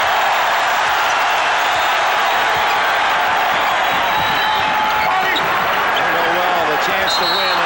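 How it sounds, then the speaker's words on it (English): A packed basketball arena crowd roars steadily on its feet late in Game 6 of the 1991 NBA Western Conference Finals between the Blazers and Lakers, with a loud, sustained wash of cheering and a few basketball bounces. "Full 2 minutes. Crowd on its feet."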